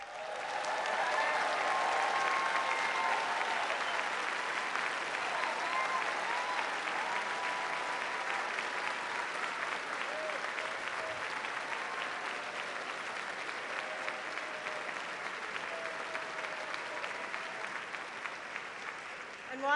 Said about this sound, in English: Now, would our students please stand up and let's give them all a round of applause.